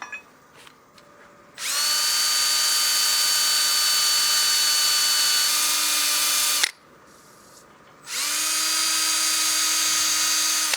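A power drill spins sanding a turned wooden bowl: two long, loud, steady high whines, each starting and stopping sharply, with a short quiet gap between them and a few faint knocks before.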